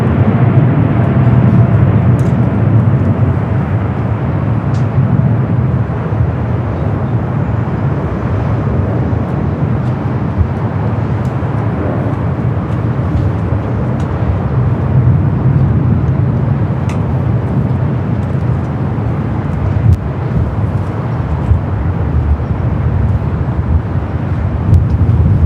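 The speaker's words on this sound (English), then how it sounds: "We do have a United Dreamliner rolling down at 250 right." A United Boeing 787 Dreamliner rolls down runway 25R at LAX on its takeoff run, a loud, steady jet roar that holds without letup for the whole stretch, with no voices over it.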